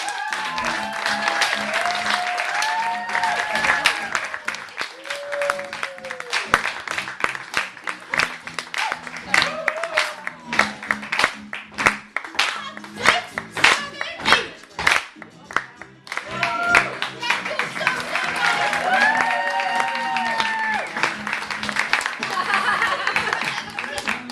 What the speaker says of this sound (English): a round of applause for our amazing